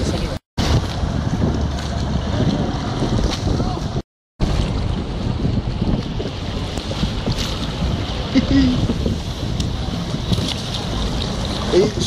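Boat engine and water noise from a vessel on the River Thames during the Diamond Jubilee river pageant, steady and fairly loud throughout with heavy wind buffeting the microphone, briefly cutting out twice.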